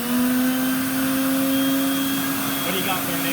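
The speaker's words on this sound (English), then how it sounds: "Turn on both vac motors." A Mighty portable carpet extractor runs both of its dual two-stage vacuum motors at once, a loud steady whine with a strong sustained tone, close by and continuous.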